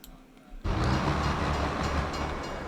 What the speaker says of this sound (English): Oh, see, he just missed the train.